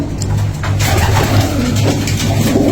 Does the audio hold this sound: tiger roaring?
no